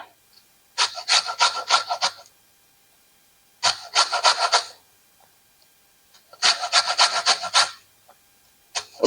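Lemon rind scraped over a grater in three bursts of quick rasping strokes, each lasting about a second and a half and separated by short pauses, close and fairly loud with no talking.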